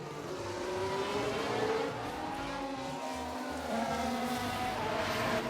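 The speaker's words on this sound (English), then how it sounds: "These are cars in front of us" F1 Manager 2023 race cars running ahead on track at the Brazil circuit: a low, steady engine drone with rising and falling pitch, fairly faint and distant, with no speech over it.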